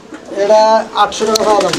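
Pigeons at a breeding farm coo in soft, throaty bursts, close by, with someone talking over them throughout.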